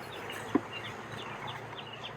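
Honeybees from a captured swarm hum around a hive box in a low, steady buzz, with a single sharp tap near the start.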